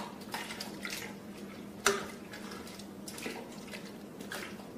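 Coffee-stained paper tags are lowered into water, giving soft sloshing and lapping with one crisp splash-like drip partway through, close and fairly quiet.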